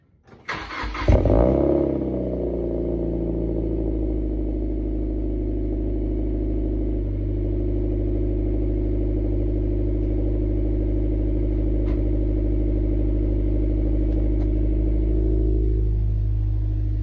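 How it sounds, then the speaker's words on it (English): A car engine cold-starts on a freezing, snowy morning: a short crank, a loud catch and flare, then a steady, loud, rumbling high idle that holds to the end. "here is a cold start on my car"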